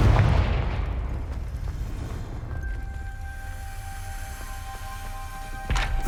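Spell explosion from Confringo in the Hogwarts Legacy video game: a loud low boom at the start that rumbles and decays over several seconds, with a steady tone and a second burst near the end.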